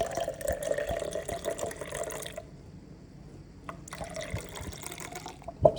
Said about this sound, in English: Put the remainder of the water in.